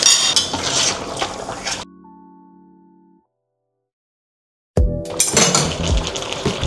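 Pepper and garlic powder mixed quickly into chicken pork adobo in a pan, with clattering utensil-on-pan stirring and sizzle, cut by a silent gap in the middle before the busy stirring resumes.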